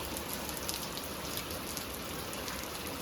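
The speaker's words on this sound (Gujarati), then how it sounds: "વરસાદ આવે છે ધીમો ધીમો" Light rain patters steadily outside during an evening in Bhavnagar, Gujarat, a soft, even hiss of drops with no pauses over a few seconds.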